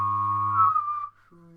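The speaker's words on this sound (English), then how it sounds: "it's kind of like you whistle, but you hum at the same time" One person whistles a steady high tone while humming a low note underneath at the same time, both held close and clear. The hum drops out briefly, then returns at a different pitch.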